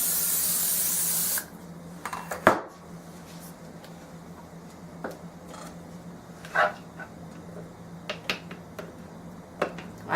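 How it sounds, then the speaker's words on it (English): A can of vegetable cooking spray hisses in one sustained, fairly loud burst in a kitchen, followed by quieter scattered clicks and taps. "vegetable spray for all this"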